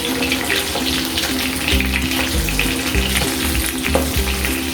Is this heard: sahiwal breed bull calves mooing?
no